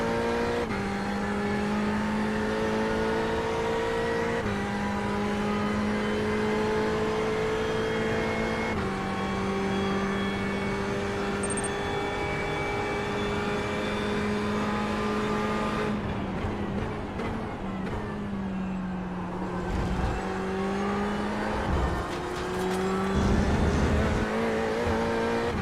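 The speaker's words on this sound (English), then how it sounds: "I tell you, Greg, we just got overtaken by a Beamer." Race car engines in an iRacing Porsche Cup event at Oulton Park drone continuously at high revs, pitch rising and falling through shifts, with a brief lull before harsh revving and tire noise return near the end.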